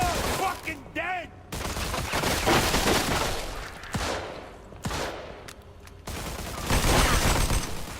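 Rapid bursts of gunfire from the Mafia 2 Definitive Edition video game, loud and close, with shouting voices mixed among the shots and a brief pause before the firing resumes.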